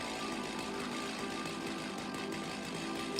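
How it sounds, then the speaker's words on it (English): Continuous, moderately quiet buzzing whine of a chainsaw in the factory-building game Satisfactory, running steadily with a brief louder burst at the very end and no speech. "Let's turn off the chainsaw because it's bugging me."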